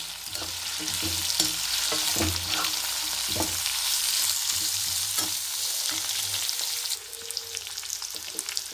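Ridge gourd peel sautéed in a pan for chutney, a steady broad sizzle with intermittent scraping stirs of a spatula throughout, easing slightly near the end.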